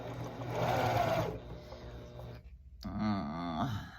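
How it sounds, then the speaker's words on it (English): A sewing machine runs a quarter-inch seam on a fabric coaster, its steady mechanical whir loud and close, pausing briefly before starting up again. "So you're going to set up your sewing machine to do a 1/4 of an inch seam allowance. I'm going to sew directly down."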